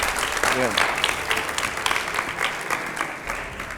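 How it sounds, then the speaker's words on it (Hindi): Audience applause on a live television show featuring an MP, a steady dense wash of clapping held at even loudness throughout, with a brief voice rising over it near the start. "तालियां हो जाए।"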